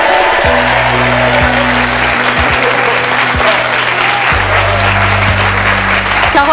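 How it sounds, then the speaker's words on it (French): A French TV talk-show studio audience bursts into loud, sustained applause for a guest, dense and steady throughout, with low music tones playing underneath. "Il s'agit de Carole, qu'on peut applaudir très fort. Applaudissements."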